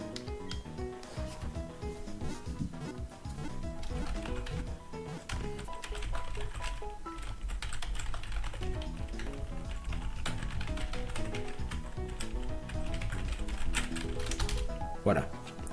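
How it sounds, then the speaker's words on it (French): Rapid keyboard clatter runs through a dense bed of music and background voices during a Pokémon Platinum playthrough, the key clicks partly buried in the mix. "Désolé pour le bruit de clavier encore une fois"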